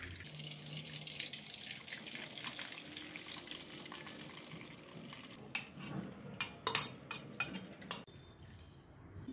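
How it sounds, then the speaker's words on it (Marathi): Curdled milk for homemade paneer is poured from a pot into a strainer, a steady watery splashing pour that tapers off into a few sharp clinks and drips near the end. "आता हे ओतून घ्यायचंय आपल्याला चाळणीवर।"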